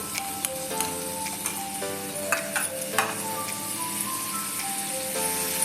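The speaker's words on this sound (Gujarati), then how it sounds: "એને આપણે આમ થોડા મિક્સ કરી દઈશું અને એ બે ટામેટાની મેં પ્યુરી લીધી છે એ પણ અંદર એડ કરી દઈશું" Chopped vegetables and tomato puree sizzle steadily in a pan for dhaba-style corn curry, with occasional scraping stirs of a spoon, all under soft melodic background music.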